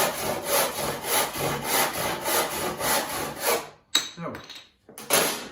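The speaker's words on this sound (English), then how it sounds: "Do a nice clean, even stroke, and hook down to the line. Never force the saw." Hand saw cutting a miter in wood, about eight even back-and-forth strokes in steady rhythm, close and clear, then a pause and a few short scraping sounds.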